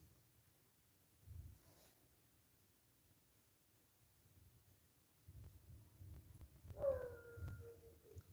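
A dog lets out a faint, distant howl that rises and wavers near the end, following a quiet stretch of low background noise.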